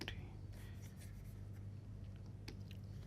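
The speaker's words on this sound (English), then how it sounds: "okay, let me write it." A pen or marker scratches out an equation: faint, quick writing strokes in short bursts over a low steady background hum, with no voice.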